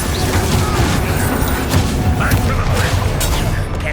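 A dense, roaring blast of fire from the Incendio spell during combat in Hogwarts Legacy, a loud continuous rumble with crackling bursts filling the whole stretch without pause.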